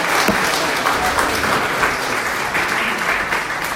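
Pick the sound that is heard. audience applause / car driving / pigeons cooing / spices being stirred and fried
audience applause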